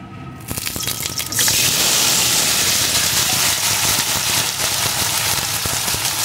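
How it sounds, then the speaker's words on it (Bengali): Papaya pieces fry in hot mustard oil with a loud, dense, continuous sizzle that swells after a brief start and holds steady throughout, close by and with no speech. "এখন এই পেঁপের টুকরোগুলোকে একটু ভেজে নেব।"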